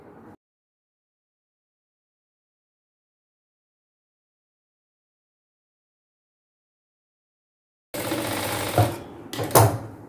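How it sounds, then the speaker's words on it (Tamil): Sewing machine stitching a chudidhar umbrella top in a tailoring class, heard as a brief close mechanical whirr after a long silence, stopping and starting again in two short bursts. "இன்னொரு பாதியை இந்த பக்கமாக ஸ்டிச் பண்ணிக்கலாம்."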